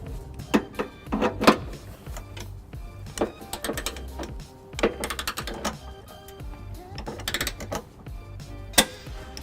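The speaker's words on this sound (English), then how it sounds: "using my torque wrench, 5-inch extension, 3/4mm, I'll be torquing this to 75 pounds." A torque wrench with an extension clicks while trailer hitch bolts are tightened on a 2002 Pontiac Aztek, sharp irregular ratcheting clicks in short bursts, close and fairly loud, with no talking.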